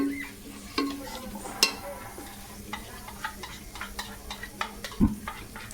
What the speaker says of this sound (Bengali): এখন মশলাটা দিয়ে একটু কষিয়ে নিব আর কি কষিয়ে নেওয়া হচ্ছে